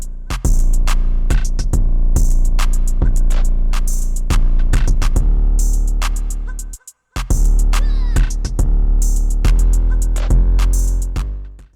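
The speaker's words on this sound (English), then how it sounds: "Altogether, guys, our drums are going to sound like this." A trap-style FL Studio drum pattern plays loud, with punchy kicks, crisp hi-hat and snare hits and a deep sustained sub 808 bass, briefly cutting out for a moment near the middle before the beat resumes.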